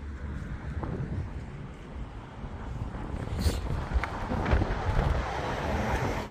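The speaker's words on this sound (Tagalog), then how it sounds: "Nakakatakot tong hangin guys." Strong gusty wind buffets an outdoor phone microphone on a fishing trip, a low rumbling roar that swells and eases in waves, with faint background sounds beneath.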